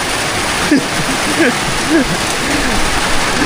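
Rain falls steadily on a farm, a dense broad hiss that lasts throughout, with people talking and calling out over it.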